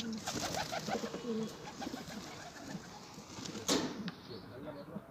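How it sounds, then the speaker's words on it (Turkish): Pigeons coo softly in short repeated phrases among other bird calls, with people talking nearby and a brief sharp noise partway through. "Alper Paşa yakalayabilecek mi bu kuşu?"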